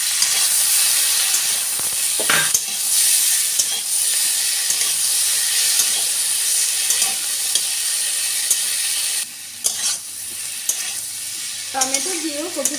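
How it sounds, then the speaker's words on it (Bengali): Cauliflower and tomato stirred and fried in a pan: a steady loud sizzle with repeated spatula scrapes and stirs throughout, no talking. "ফুলকপি নেড়ে নিয়ে এর মধ্যে টমেটো দিয়ে দেব।"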